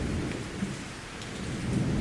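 Heavy rain with rumbling thunder during a thunderstorm, a steady dense roar of downpour on surfaces with low rolling thunder swelling near the end, no voices.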